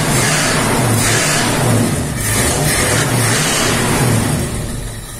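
A Ford Maverick's 302 V8 with a freshly cleaned carburetor runs close by at a steady idle, a continuous loud rumble with a gentle rhythmic lope and slight swells, easing off near the end.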